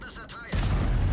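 Tank cannon firing in the video game World of Tanks, a single sudden heavy boom cutting in after a brief higher-pitched tone and then rolling on as a dense low rumble.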